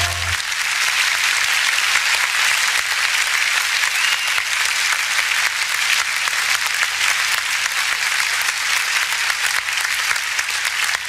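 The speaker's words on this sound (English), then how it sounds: "can we give her a full and hearty round of applause this afternoon?" A loud, dense round of applause from an audience welcoming a presidential candidate, continuous and unbroken for the whole stretch, close and full with no pauses.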